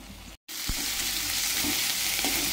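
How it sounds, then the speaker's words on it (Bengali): A paste of tomato and green chili fries in a pan over onions that have already browned, giving a loud continuous sizzle after a short silent gap near the start. "এটা ভেজে নেব।"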